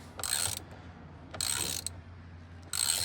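Torque wrench ratcheting on a steering wheel bolt while a custom steering wheel is installed in a 2018 to 2022 Honda Accord, three short bursts of rapid clicking close up, separated by brief pauses.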